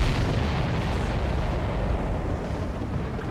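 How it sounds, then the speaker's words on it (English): Explosions from the combat flight game Ace Combat 7 form a dense, continuous roar of booming blasts, loud and rumbling throughout with no talking. "Did you see that explosion?"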